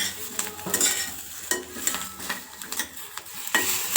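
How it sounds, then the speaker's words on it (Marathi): Green chilies roast in a hot pan while a spoon presses and scrapes them, making a close, crackling sizzle with repeated quick metallic scrapes and no talking. "असं थोडंसं त्याला चमच्यानेच थोडं दाबून घ्यायचं म्हणजे आतपर्यंत चांगली ती भाजल्या जाते"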